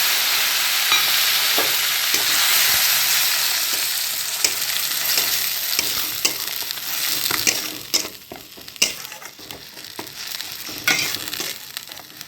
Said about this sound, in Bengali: এবার বেটে রাখা পেঁয়াজটা দিয়ে দিচ্ছি